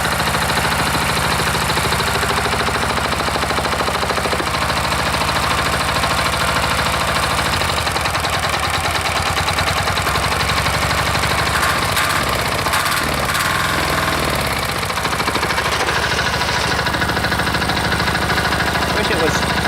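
A single-cylinder diesel engine runs steadily after a cold start, a dense continuous clatter with a knocking, mower-like chug that holds loud and close for the whole stretch, while someone talks over it.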